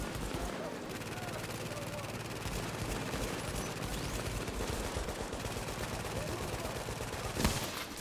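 Rapid turret gunfire in the video game The Division, a dense continuous rattle of shots at moderate volume, steady throughout with one louder burst near the end, alongside a voice speaking.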